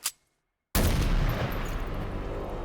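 A single sharp gunshot bursts out loud after a brief quiet moment and trails into a long rumbling echo, heard in a Thomas the Tank Engine animation.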